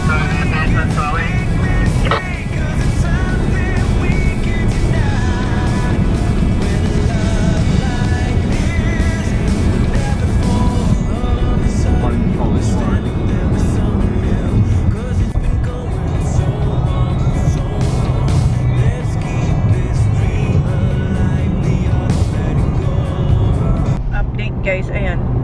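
Steady road traffic rumbles around a car towing a caravan, with vehicles passing close by under frequent talk from people inside.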